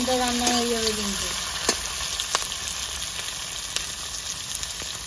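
Chopped onions fry in a pan for a home-style dish, giving a steady close sizzle and hiss that runs throughout, with a brief tonal sound at the very start.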